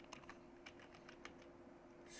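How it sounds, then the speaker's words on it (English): Typing on a computer keyboard, a quiet run of light, irregular clicking keystrokes close to the microphone over a faint steady hum, with no talking. "I'm gonna type"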